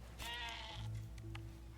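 Goats bleating in quick succession in the video game Dawn of Man, a loud wavering cry followed by shorter calls over a steady low game hum.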